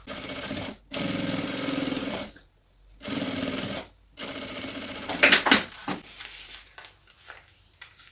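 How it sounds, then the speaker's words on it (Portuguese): A sewing machine stitches synthetic material on the upper panel of a necessaire with a window, running in several loud, steady bursts separated by short pauses, then fading into lighter handling noises near the end. "Então, na parte de cima, só vou costurar o sintético."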